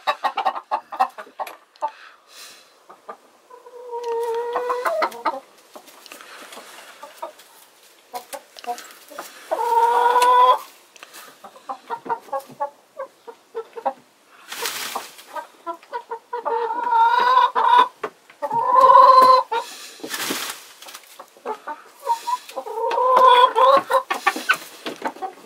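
A Polish rooster clucks repeatedly in bursts of varying loudness, with short pauses between the calls and brief sharper squawks, heard close with no talking.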